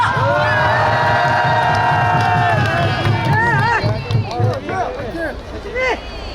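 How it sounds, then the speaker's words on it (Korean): A Republican Party crowd welcomes a young party member with loud, continuous cheering, whoops and raised shouting voices, a close, busy roar that thins slightly toward the end. "여러분 박수 주십시오"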